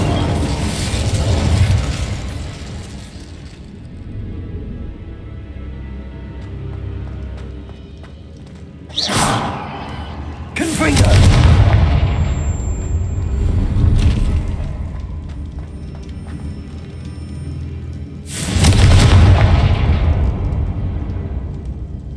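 Confringo and Incendio spell blasts in the game Hogwarts Legacy come as several loud booming bursts with fiery whooshes, spaced several seconds apart over a low rumbling background.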